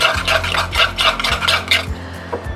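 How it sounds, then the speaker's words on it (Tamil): A spoon stirs a spice mix of chili powder, turmeric, chaat masala and salt in a bowl, scraping and clinking in a steady, even rhythm of strokes, close and clear with no talking. "உப்பு தேவையான அளவு போட்டுட்டு இதை நல்லா மிக்ஸ் பண்ணிக்கோங்க"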